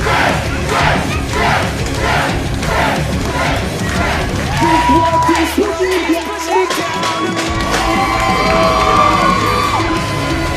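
A wrestling crowd at a heavyweight championship match cheers and shouts loudly and continuously, with whoops and yells rising over a dense roar and a sustained higher tone entering partway through.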